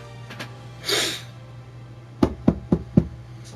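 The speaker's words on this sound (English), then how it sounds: "That's knock on wood." Four sharp knocks on wood land in a quick, even series, close and distinct, after a soft breathy sound earlier; a low steady hum sits underneath and nobody talks.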